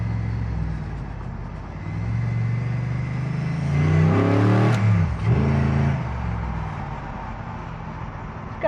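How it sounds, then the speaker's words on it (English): A Toyota Celica GT with a swapped-in V8 pulls away from a stop, its engine rumble rising through a rev build in the middle, then easing back to a steady, nearby drone. "It will pull away from a stop in second gear, so you can save a shift, but it's better in first."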